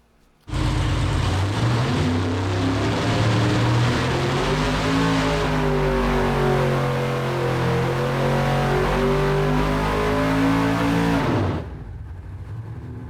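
A carbureted 1,200 hp naturally aspirated race engine on a dyno bursts into a loud, sustained roar that climbs in pitch toward 6,500 RPM for about eleven seconds, then cuts off abruptly to a low idle rumble.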